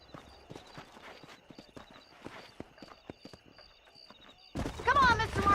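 Horse hooves clip-clop at a steady walking rhythm on a dirt trail in the video game Red Dead Redemption, soft and even, until a louder burst of game sound breaks in near the end.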